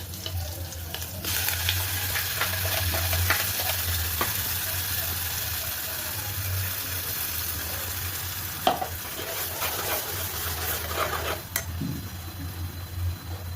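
Ground masala fries in a hot pan with steady sizzling while a spoon scrapes and stirs through it, with occasional sharper clinks, close and moderately loud throughout.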